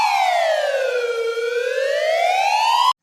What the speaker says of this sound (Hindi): कुछ ही देर में एम्बुलेंस अस्पताल तक पहुंच जाती है।